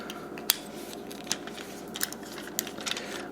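Plastic Transformers Prime First Edition Voyager Class Bulkhead figure having its legs folded, giving a handful of sharp, quiet clicks and ratchety snaps spread irregularly over a soft background.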